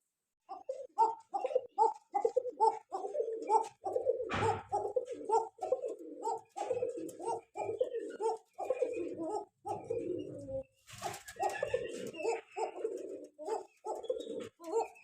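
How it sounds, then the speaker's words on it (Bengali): Pigeons coo in steady repeated phrases, close and clear in a quiet room, with a soft flutter or rustle partway through and a few brief noises near the end. "খুবই সুন্দর এক পেয়ার গড়া কবুতর আমাদের কাছ থেকে নিতে পারবেন আজকে"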